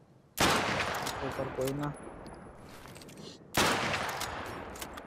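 Two loud bursts of automatic gunfire in a mobile shooter game, each with a sharp onset and ringing tail, separated by a quieter gap with game tones and a brief spoken phrase.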